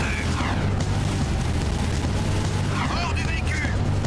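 An explosion in the PS4 game Jak II roars as a dense, continuous rumble over about four seconds. Excited voices talk over the blast.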